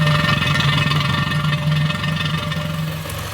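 A 1953 Triumph Thunderbird motorcycle engine runs close up, low on oil and making an odd noise, a steady mechanical idle with a rhythmic pulsing whine and rattle, slowly fading slightly.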